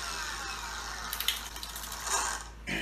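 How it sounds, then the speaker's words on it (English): Safety lock and trigger switch on a Craftsman 60V brushless string trimmer clicking, a few small mechanical clicks and ratchety snaps standing out over a steady background hiss, fairly close and moderate in level. "got the safety locks to where you have to push it in and make the switch come on"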